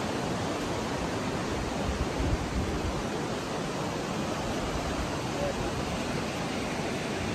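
A river in Guatemala rushes steadily in a dense, unbroken wash of flowing water, close and fairly loud, with no clear pauses.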